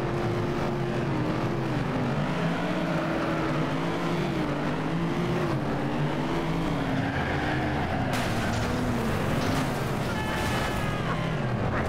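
A car driving in the FlatOut racing game, its engine droning steadily up close, the pitch rising and falling with gear changes and throttle.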